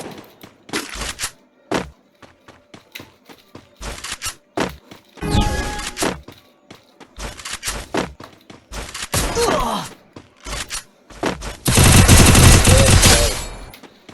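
Gunfire in the video game Free Fire, played on PC, comes as loud, separate bursts of automatic fire and single sharp shots, ending in a long sustained volley; a voice groans between shots.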